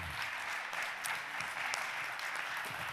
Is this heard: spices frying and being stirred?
no